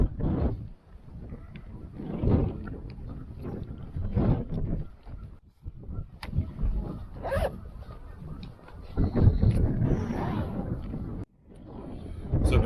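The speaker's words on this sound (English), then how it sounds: "Wow, that wind." Wind gusting outdoors at a campsite cooking setup, loud irregular rumbling buffets across the microphone with brief lulls between gusts.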